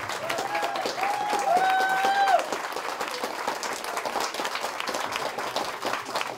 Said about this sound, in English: I want a massive round of applause for the young couple there.